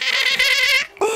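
Dogs in the Roblox scary obby game give a loud, continuous whining yelp lasting about a second, a short dip, then a fresh cry at the end.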